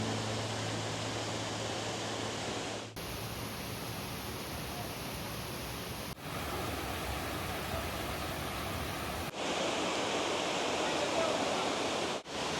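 A river rushes toward a waterfall near Cornell University in Ithaca, New York, a steady broadband roar of water filling the whole clip, moderately loud and unbroken apart from small cuts between segments.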